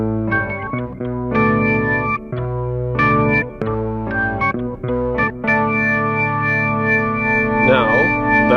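Bass guitar, an MTD 1534-24, played through chorus and distortion effects, a thick, wavering funky line of plucked notes and sustained tones, loud and close with no talking.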